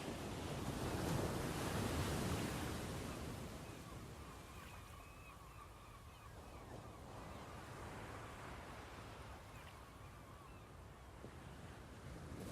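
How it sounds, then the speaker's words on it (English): Ocean waves wash steadily against the shore near a lighthouse, a broad continuous surf roar that swells louder early on, with wind buffeting the microphone and faint gull cries drifting in the background. "you can just listen to the waves and those twatting seagulls."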